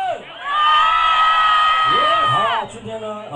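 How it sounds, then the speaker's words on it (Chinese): A crowd at the Muse nightclub in Tainan screams and cheers in one loud, sustained roar lasting about two seconds before breaking off into scattered shouts. "台下的朋友，我要听到你们尖叫声。"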